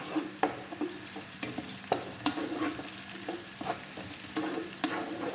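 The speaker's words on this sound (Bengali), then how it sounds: "অল্প কিছু পেঁয়াজ আগে এরকম লাল করে নিন বুঝছেন লাল করে আমি এখন এখানে কটা তেজপাতা দিয়ে দিব" Onions and bay leaves frying in a pan for fish khichuri, a steady sizzle broken by repeated stirring scrapes and clicks, close and fairly loud with no voices.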